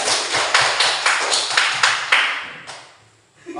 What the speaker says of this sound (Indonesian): Kasih tepuk tangan dulu lah untuk kelompok matahari